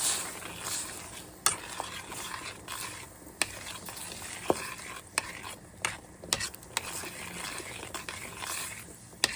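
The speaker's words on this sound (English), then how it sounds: "you can hear them simmering and starting to pop" Cranberries simmering in a pot while a spoon stirs them steadily, with soft bubbling and a broad sizzle under sharp scattered pops and clicks as the berries burst, close and fairly quiet with no talking.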